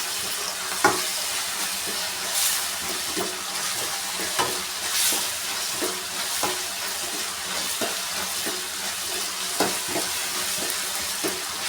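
Tomatoes and onions frying in a pan give a continuous hissing sizzle, close and fairly loud, broken by repeated light scraping and clacking stirs at irregular intervals, with no voices.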